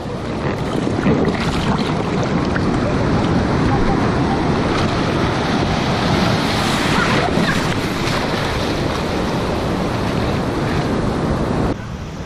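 Rough sea waves crash and churn around a small boat riding through choppy water, a loud continuous roar of surf and spray with heavy wind buffeting the microphone throughout.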